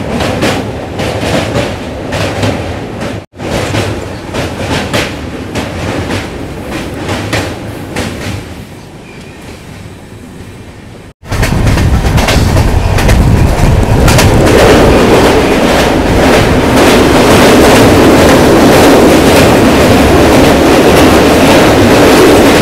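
The Rajya Rani Express between Patna and Saharsa rolling along the rails, a loud continuous rumble and rattle that jumps to an even louder, fuller roar partway through.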